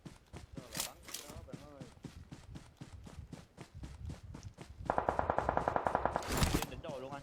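Rapid automatic gunfire in a video game, steady repeated shots throughout that swell into a louder, dense rattling burst toward the end, with running footsteps and a voice talking underneath.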